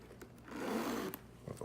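A zipper on the back compartment of a Louis Vuitton MyLockMe BB handbag is drawn open in one smooth rasping pull, close by, with a few soft handling clicks around it.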